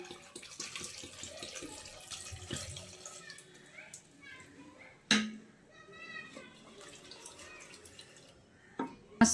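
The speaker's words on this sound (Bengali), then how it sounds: "আর আলুটা সেদ্ধ হওয়ার জন্য আমি পানি দিয়ে দিচ্ছি।" Water splashes and trickles into a pot of potatoes being boiled, with clattering and a couple of sharp knocks, under faint background noise.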